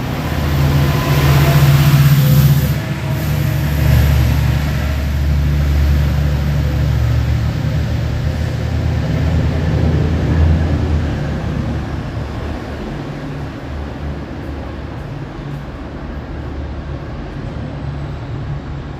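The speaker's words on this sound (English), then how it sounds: "Hey, we have a UP Express train." A UP Express train rolls past in Toronto on a Monday evening, a loud steady rumble and rail hum that holds for several seconds and then slowly fades as it moves away.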